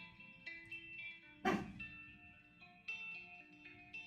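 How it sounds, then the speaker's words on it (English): A single sharp dog bark cuts through a quiet background of soft electronic game tones, brief and moderately close. "Sorry about my dog."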